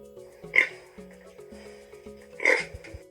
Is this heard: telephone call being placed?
no